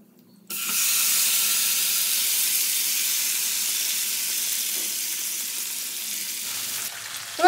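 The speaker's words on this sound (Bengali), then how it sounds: "জিরেটা ভাজা হয়ে গেলে এবার আমি মেখে রাখা মাছটা তেলের মধ্যে দিয়ে দেবো।" Marinated koi fish drops into hot oil with fried cumin and bursts into a loud, close sizzle that hisses steadily and fades slightly over several seconds.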